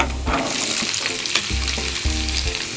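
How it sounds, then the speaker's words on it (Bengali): Pumpkin pieces tossed into a pan of fried onions sizzle loudly, with a few stirring scrapes and clatters over the steady frying hiss, no voices. "আমাদের পেঁয়াজগুলো ভাজা হয়ে গেছে এ পর্যায়ে আমরা মিষ্টি কুমড়াগুলো দিয়ে দিব"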